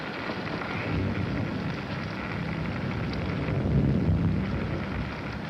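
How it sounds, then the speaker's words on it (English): Rain falls at night in a 1941 horror film scene, a dense, even hiss with a low rumble that holds steady throughout and carries no voices. "It's raining."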